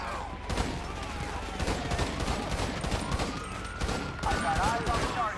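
Gunfire in the GTA video game, a dense run of shots and bursts under a continuous game soundscape, with a voice talking over parts of it.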